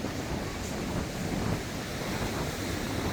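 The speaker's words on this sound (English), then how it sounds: "I'm going to get myself off of this windy seafront" Wind buffets the Teignmouth seafront in a steady, rushing roar, with surf churning underneath and close gusts hitting hard, and no one speaking.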